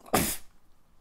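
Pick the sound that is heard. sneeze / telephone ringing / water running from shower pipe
sneeze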